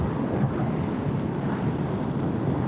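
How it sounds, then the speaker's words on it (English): Steady, loud wind blast roars past a rider on a 2025 Kawasaki Versys 1100 motorcycle with a bigger screen, a constant broadband rush with no buffeting and no talking. "That literally is just wind blast."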